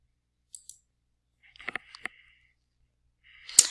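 Computer mouse clicks during a word-processing task, a few faint scattered clicks followed by a small cluster, then one sharper click at the end, close and isolated in silence.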